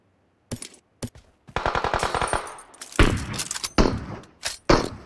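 Bursts of rapid gunfire in PUBG Mobile, loud and close, with a fast rattling automatic burst, then heavier shots and sharp impacts in uneven clusters; no talk.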